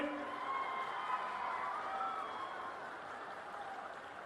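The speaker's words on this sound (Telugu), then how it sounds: "అవును అంటే గట్టిగా చప్పట్లు కూడా చెప్పండి" A political rally audience claps in a steady, distant-sounding wash, with some crowd noise and faint cheering mixed in and no clear speech on top.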